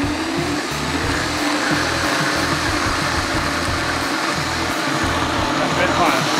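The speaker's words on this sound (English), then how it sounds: "when I'm blending, I'm like this, letting a bit of the heat out" A blender runs on a low setting while blending pea and mint soup, a steady continuous whirring drone held at an even level throughout, with some voice or background talk mixed in.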